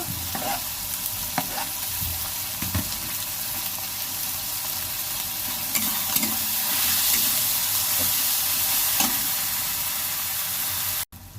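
Chopped green chilies fry in a pan with a steady bright sizzle, broken by periodic scraping thuds of a spatula stirring them, close and continuous.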